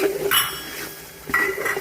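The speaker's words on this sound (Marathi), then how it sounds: "चांगलं छान हलवून घ्यायचं।" Pav bhaji masala is stirred through a large pot of bhaji for about 40 people, giving a few close metallic scrapes and clinks of a spoon against the pot.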